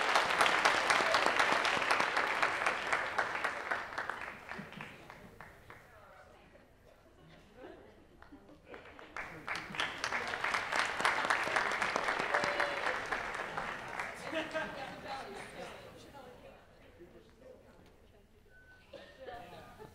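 An audience at a senior awards and cording ceremony claps in swelling waves of applause, rising and fading twice across a hall with light chatter underneath.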